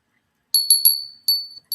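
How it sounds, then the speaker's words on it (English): A Mikasa crystal bell is rung in five bright, clear strikes, three quick ones and then two spaced apart, each a pure high ring that decays briefly, heard alone. "It's a Mikasa, and this is the box that it comes in. It is a bell. Here's the bell."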